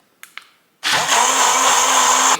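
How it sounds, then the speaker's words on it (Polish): A blender self-cleaning with water and a drop of dish soap: two faint knocks, then the motor kicks on loud and close, a steady whirring roar that runs to the end and cuts off. "Na koniec blender myje się sam, wystarczy wlać wodę, kropelkę płynu."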